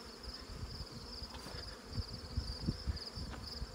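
Honey bees in an outdoor bee yard in August make a dense, continuous buzzing swarm close around, with occasional louder passes and soft thumps and no talking.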